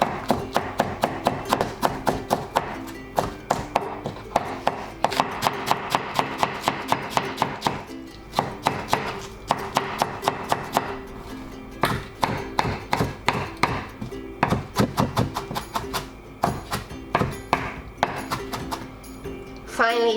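Rapid knife chopping of vegetables on a cutting board for vegetarian gyoza filling, sharp close rhythmic strokes in long fast runs with short breaks between bursts.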